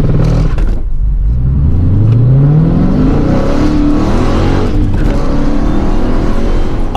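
A car launches from a standstill using launch control after the clutch is sidestepped, the engine note climbing steadily in pitch as it accelerates hard, loud and close throughout with no talk.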